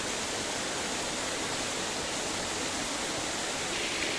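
Small waterfall with flowing water, a steady, loud, broadband rush of falling water that holds even and unbroken throughout, with no voices.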